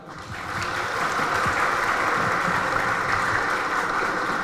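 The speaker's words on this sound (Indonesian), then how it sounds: "Ya, tepuk tangan." An audience at a wayang shadow-puppet performance breaks into steady, full applause, a dense, even clapping that swells quickly and holds without speech.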